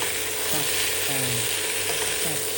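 Potatoes fry in butter and oil with a loud, dense, unbroken sizzle and crackle of spattering fat, heard up close.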